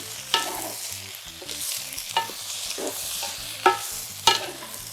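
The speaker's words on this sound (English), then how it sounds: "I'm a little rusty at the wok and roll, so I'm just gonna stir it myself." Chicken stir fry with vegetables, garlic and honey tossed and stirred in a hot wok, a steady close sizzle broken by several sharp scrapes and clacks of the utensil against the pan.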